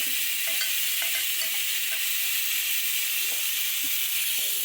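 Tomatoes frying in a pan for a mutton and sorakaya (bottle gourd) curry, a steady broadband sizzle with a few soft stirring scrapes, close and continuous with no talking.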